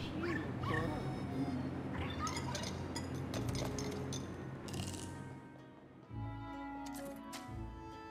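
Dog barking and whimpering in the video game Luigi's Mansion 3, a few short yips and whines over dense game music and effects, moderately loud throughout.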